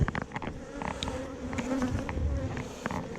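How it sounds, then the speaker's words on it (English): Dense, steady buzzing of many honeybees close by, robber bees in a dead hive, a continuous droning hum with occasional louder passes, no voices. "There's a bunch of robber bees in here."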